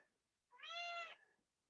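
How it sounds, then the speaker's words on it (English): A pet cat gives a single loud, drawn-out meow close by, clear and alone against a quiet room. "You're gonna hear cat noises."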